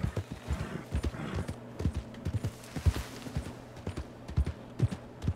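Horse hooves clip-clopping steadily in a video game, a close, regular rhythm of hollow knocks that continues without a break and carries a faint mechanical hum underneath.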